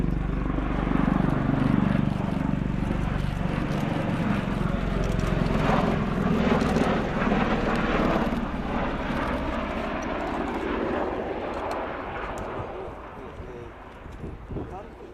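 A USAF Bell-Boeing CV-22B Osprey tiltrotor flying at the RIAT 2017 airshow produces a deep, throbbing rotor and engine roar that holds loud and then slowly fades, with a voice speaking over it.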